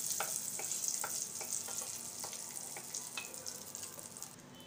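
Bay leaf, cardamom and cloves sauté in hot ghee with a soft, continuous sizzle, broken by a series of light spoon scrapes and taps against the pan.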